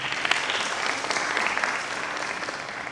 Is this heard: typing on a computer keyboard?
no